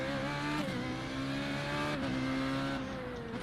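An FR3.5 open-wheel race car in the iRacing sim game, its engine droning steadily with clear, quick pitch drops at each upshift, the engine note heard alone at moderate level.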